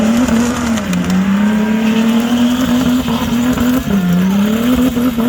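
A drift car at altitude runs hard and loud throughout, its engine note holding steady with slight wavering pitch as tires squeal and skid beneath it, no voices present.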